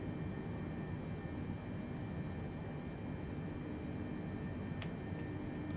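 A Boeing 747-8F taxis in a flight simulator game, heard as a steady broadband engine rumble and hiss that holds even throughout, with a brief faint tick near the end and no voices.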